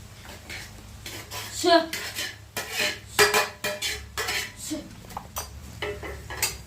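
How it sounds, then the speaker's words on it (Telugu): A spoon clanks and scrapes against a pan while onions, carrot and green chillies are stirred, giving irregular metallic knocks and clinks in bursts. "ఉల్లిపాయలు వేసుకొని కలిపి వేసేసుకున్నాం"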